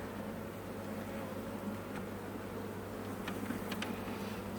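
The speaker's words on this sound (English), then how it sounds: "These are very, very quiet bees." Honeybees buzzing on a hive frame, a dense steady hum close to the microphone with a few brief individual bees passing nearer, calm and continuous with no voices.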